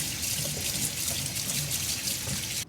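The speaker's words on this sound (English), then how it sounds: "one quick way to defrost it is just to run them under cold water" Cold tap water runs steadily over frozen shrimp in a kitchen sink to thaw them, a continuous close hiss and splash that cuts off abruptly at the end.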